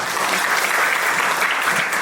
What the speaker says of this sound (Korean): 다시 한번 박수로 부탁드립니다.